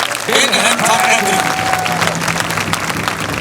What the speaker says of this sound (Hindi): सबके लिए एक बार जरा ताली बजा दी जाए